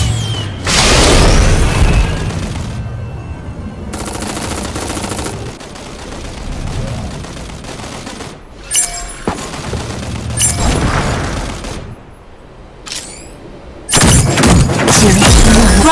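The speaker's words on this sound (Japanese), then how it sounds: "銃声よ、気を引き締めて。" Gunfire and heavy booms in the mecha battle game Super Mecha Champions, loud bursts of shots and explosions in dense clusters separated by quieter stretches of game noise.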